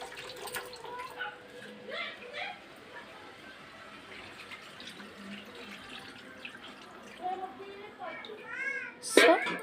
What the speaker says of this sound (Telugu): కొంచెం వాటర్ వేసేద్దాం